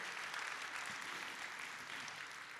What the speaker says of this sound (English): Can you please join me to once again give a big round of applause to our dancers?